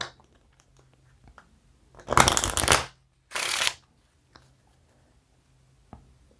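Two short bursts of crisp riffling from a deck of cards being false shuffled, close and fairly loud, with quiet pauses between.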